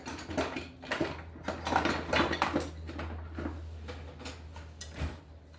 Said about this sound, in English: Let me scrape the side of my bowl here.